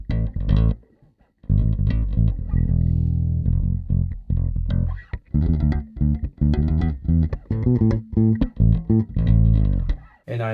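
A HH Stingray bass guitar in the P pickup position plays a punchy riff of short plucked notes with brief pauses, loud and close, with a bright growly edge.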